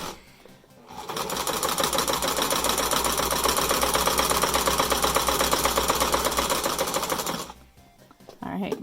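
A sewing machine runs steadily for about six seconds, stitching a homemade fabric face mask, with a rapid even needle rhythm up close that stops abruptly before a brief pause and a small handling sound.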